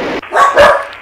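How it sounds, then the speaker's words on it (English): Excited dogs bark in a home radio shack, a few loud, close barks and yips over a short stretch with a running radio in the room. "my dogs are excited about something"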